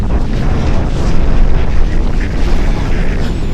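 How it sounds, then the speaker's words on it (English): Strong wind roars and buffets the microphone steadily throughout, a loud, continuous broadband rush along a windy straight during a Christmas Eve fun run, with no voices. "Just listen to that wind."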